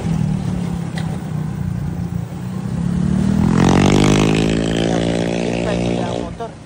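A motorcycle engine idles low, then revs up and climbs in pitch partway through, holding a strong, steady whine close by while people talk over it.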